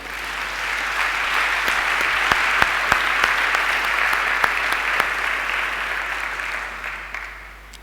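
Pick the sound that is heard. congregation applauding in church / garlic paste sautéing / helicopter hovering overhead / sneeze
congregation applauding in church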